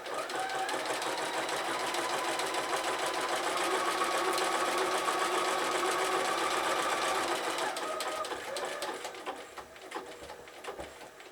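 A sewing machine runs a steady zig-zag stitch along the edge of a red fabric applique for a bunting, a continuous close mechanical whir that slows and stops near the end.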